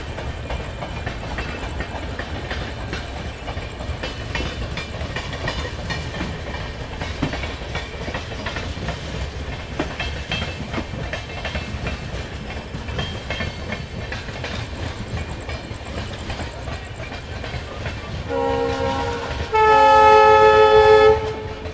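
An Amrit Bharat train runs along steadily on the Gaya–Delhi route in India, its continuous rolling rumble filling the scene, then the horn sounds loud and near with tonal blasts toward the end.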